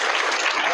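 A brief burst of applause at a school general-knowledge quiz, steady clapping from a group of students close by.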